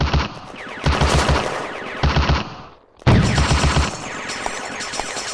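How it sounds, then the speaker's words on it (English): Heavy machine-gun and rifle fire in a WWII village battle set in May 1940 on Hill 112, the game Firefight: dense rapid bursts, loud and close, a brief drop near the middle, then an even fuller fusillade. "Heavy fire."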